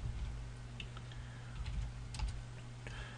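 Rapid keystrokes on a computer keyboard tap out a short search entry, light close clicks in an irregular rhythm over a low steady hum, with no voices.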